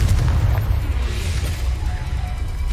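Loud, sustained boom of a Confringo fire-spell explosion in the video game Hogwarts Legacy, heavy low rumble filling the whole moment with crackling debris on top.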